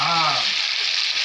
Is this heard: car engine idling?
no